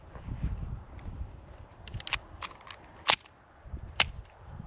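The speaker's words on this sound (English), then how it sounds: "there she is, the TAURUS PT92, chambered in 9mm" A Taurus PT92 9mm pistol fires at a shooting range, with two sharp, distant-sounding reports about a second apart amid lighter clicks and range background noise.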